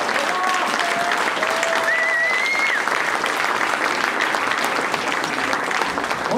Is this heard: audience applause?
yes